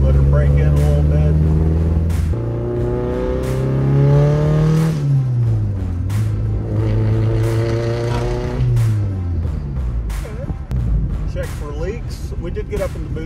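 A turbocharged car fitted with a Piper cam and a GT3071 ball-bearing turbo drives down a street, its engine rising and falling through gear changes, loud and close, with intermittent sharp clicks.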